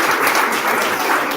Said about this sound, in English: A big round of applause for Grumble.